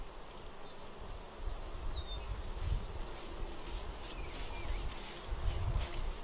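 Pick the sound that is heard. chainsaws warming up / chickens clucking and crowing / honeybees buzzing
honeybees buzzing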